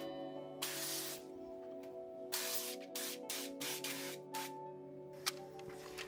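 Oil spray misted onto a parchment-lined baking tray for a rhubarb strawberry sheet cake, heard as several short hissing bursts of varying length, close and fairly loud, over a steady faint background hum.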